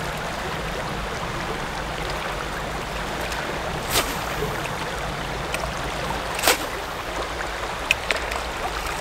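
White bass strike the water's surface on open water, giving three sharp, brief splashes spaced a couple of seconds apart over a steady wash of water and wind ambience.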